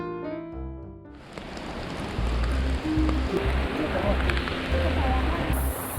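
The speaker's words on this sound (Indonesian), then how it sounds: "Hujan kembali turun saat kami memulai kembali perjalanan." Steady rain falls during a mountain hike near a waterfall, a continuous broadband hiss that fills the clip after a brief quieter musical start, with faint voices mixed underneath.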